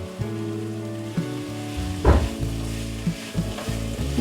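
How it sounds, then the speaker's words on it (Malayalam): Carrots, beans and capsicum are stir-fried in a pan for veg fried rice, making a loud, close sizzle with repeated scraping and stirring knocks and one heavier clatter midway, with no talk over it. "ഇനി ഇതിലേക്ക് ഞാൻ ഒരു ക്യാപ്സിക്കത്തിൻ്റെ പകുതി ഇട്ട് അതും ഇട്ട് കൊടുക്കുന്നുണ്ട് ഇട്ട് കൊടുത്തിട്ട് നന്നായി ഒന്ന് ഇളക്കി കൊടുക്കാം"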